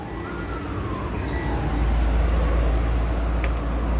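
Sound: Mazda 2.5 turbo engine starter cranking

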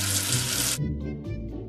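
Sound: water running to wash away soap

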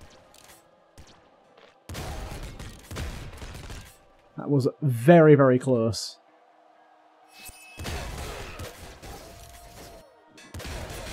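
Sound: video game explosions chain reaction

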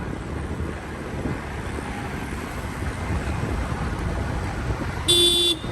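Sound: road traffic with car horns

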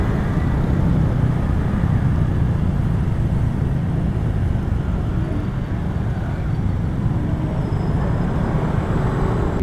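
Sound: motorcycles and road traffic passing

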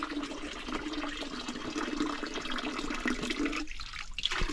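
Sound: water flowing out of a ram pump

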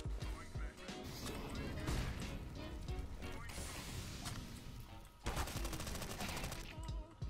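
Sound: MP5 gunfire in a video game

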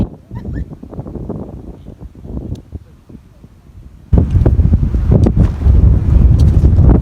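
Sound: wind blowing

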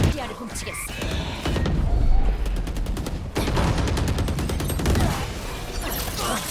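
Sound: rapid gunfire, shooting in a game

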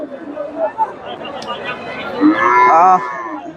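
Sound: cattle lowing

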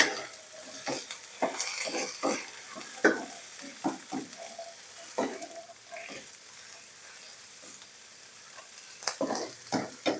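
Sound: stir-frying onion flowers with egg in a pan

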